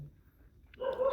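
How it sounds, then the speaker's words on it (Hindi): Dogs barking nearby in a home, a short burst of loud barks rising suddenly after a quiet stretch of low background rumble. "कुत्ते भौंक रहे हैं"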